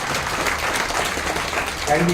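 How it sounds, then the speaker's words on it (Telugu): An audience applauds steadily with dense, continuous clapping throughout, loud and sustained, with a voice beginning to speak just at the end. "ఫ్లైట్ ఎక్కిన వాళ్ళు గట్టిగా చప్పట్లు కొట్టారు"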